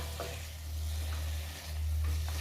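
Frozen falafel fry in a pan with a quiet, continuous sizzle over a low steady hum, and no voices.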